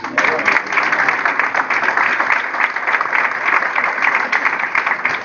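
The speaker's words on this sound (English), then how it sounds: "Give him a round of applause." An audience at a motivational speaking session gives a round of applause, a dense and sustained burst of many hands clapping close and loud throughout.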